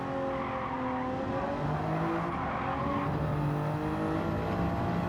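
Race car engine droning steadily in Gran Turismo 7 around the Nürburgring GP circuit, a continuous throttle tone with slowly shifting pitch as the car coasts and then smoothly picks up speed again, no voices.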